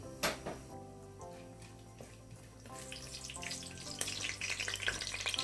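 Whole spices such as cinnamon dropped into hot oil in a pan, a quiet start with tonal clatter giving way to a rising, fizzy crackling sizzle over the last seconds.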